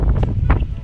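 Strong gusts on a golf course buffet the microphone, producing loud, rumbling wind noise with uneven surges through the short moment.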